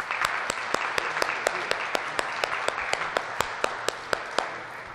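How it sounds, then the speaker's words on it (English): An audience at an old-time radio show event applauds steadily, a dense wash of clapping with a few sharp individual claps standing out, heard at moderate distance. "please join us in a round of applause for them."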